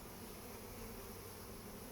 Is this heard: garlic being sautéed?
no